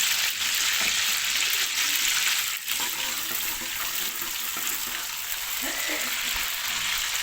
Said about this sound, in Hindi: और ज़ीरा डाल के 1 मिनट के लिए जो है वो इसको फ्राई करना है